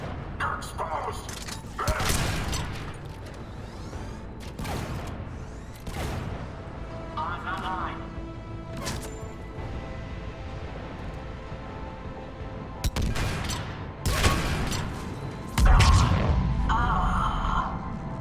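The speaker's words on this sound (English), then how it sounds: "Those cannons have to be stopped." Cannon fire and explosions in the video game Mass Effect 3, several heavy booms and bursts scattered over a steady roar of battle noise, with voices talking between the blasts.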